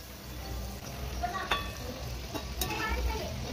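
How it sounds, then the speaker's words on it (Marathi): Bhakarwadi frying in oil over a medium gas flame, a steady close sizzle with a few brief clicks and scrapes from turning the pieces, no talking. "मीडियम गॅसवरती आपण हे तळायचे।"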